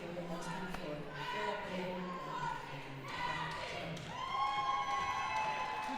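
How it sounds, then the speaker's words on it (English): Roller derby crowd cheering and applauding in a sports hall as the head referee takes the microphone, a steady mass of voices with rising swells and whoops, with people talking amid the noise. "as soon as the head ref starts talking, the crowd decide that's their moment to cheer for everyone"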